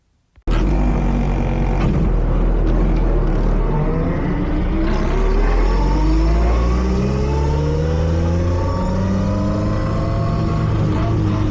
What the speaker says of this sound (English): as you can already hear, this gearbox is loud. It's running a Quaife sequential box, straight cut gears